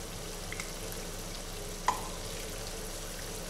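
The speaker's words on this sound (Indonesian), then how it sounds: "Kita goreng semuanya sampai matang" Tempeh-filled combro fry in hot oil with a soft, steady sizzle, low and even throughout, broken by one brief louder pop partway through; no voices.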